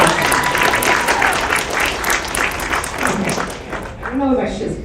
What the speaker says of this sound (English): Please put your hands together and give them a big applause.